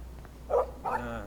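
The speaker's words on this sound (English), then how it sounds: "No barking." A dog in the video game Life is Strange gives two short barks, one after the other, moderately loud over a quiet game background.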